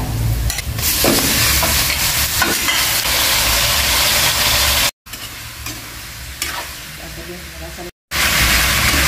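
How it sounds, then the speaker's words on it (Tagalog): Marinated pork hock is stirred and seared in a hot pan with garlic and onion, giving a loud, continuous sizzle and hiss with scraping stir strokes, briefly broken by two short gaps. "Haluin at sangkutsahin mabuti ang marinated na pata."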